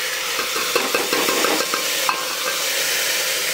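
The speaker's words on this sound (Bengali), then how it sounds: "এবার দুটোকে একটু নাড়াচাড়া করবো।" Steady sizzling in a pan with soft scraping and clinking as lentils and rice are stirred, close up and without talk.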